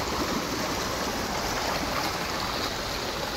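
Cold mountain water of the Song River near Haridwar flows at Raiwala, a steady, full rushing and burbling close by with no voices.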